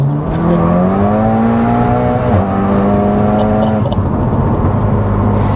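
A tuned 600+ BHP MK7 Volkswagen Golf R Estate engine and exhaust droning loudly and steadily while driving, its pitch rising gradually then dipping and settling, with a continuous deep rumble throughout.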